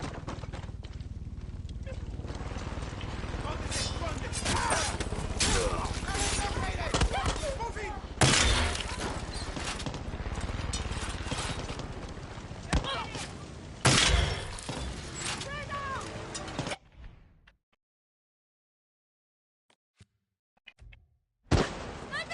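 A Molotov cocktail shatters amid chaotic combat in the game Far Cry 6, with glass breaking, crackling fire and repeated impacts. Dense action noise runs for most of the time before dropping out, with sharp bursts near the end.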